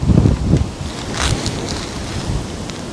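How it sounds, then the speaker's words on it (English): Strong gusty wind buffets the microphone at a lakeside fishery, with a loud rumbling burst at first, then a steady roar and whoosh that carries on throughout, with no voices. "This wind, 12 mile an hour wind, my arse."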